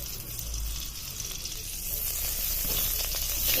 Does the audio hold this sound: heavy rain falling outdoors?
no